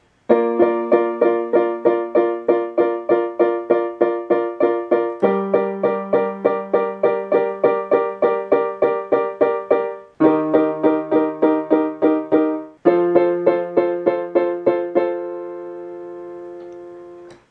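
Piano chords played with both hands, a steady repeated rhythmic pattern of struck chords changing every few seconds, ending on a sustained ringing chord, clear and alone.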